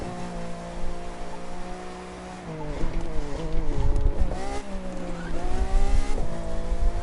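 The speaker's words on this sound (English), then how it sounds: "You can drift any car" A car drifts in The Crew 2 racing game: a loud, sustained engine drone with shifting pitch, overlaid by rough, continuous tire squeal as the car slides, growing louder toward the end.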